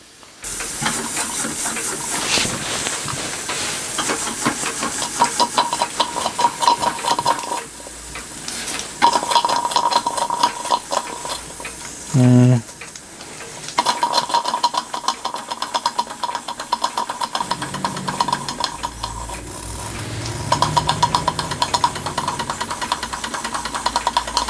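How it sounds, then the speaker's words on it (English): A Stirlingkit Retrol SE-02 model steam engine runs with a steady rapid hissing chuff and mechanical whir as it drives a generator and a small Ferris wheel, continuous and close, with no voices. "I'm actually using the pulley on the generator to drive the Ferris wheel"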